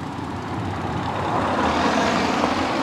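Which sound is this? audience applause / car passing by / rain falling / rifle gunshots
car passing by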